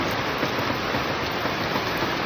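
Steady, dense rain hisses continuously, a broad wash of falling water without breaks or voices.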